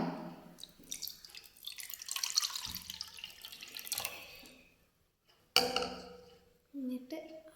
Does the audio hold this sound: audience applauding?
no